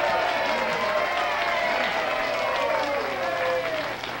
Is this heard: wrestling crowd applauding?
yes